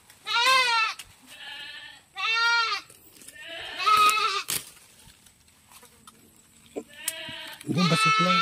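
A goat bleats loudly several times in a row at close range, each wavering cry separated by quiet gaps, with brief human sounds in between.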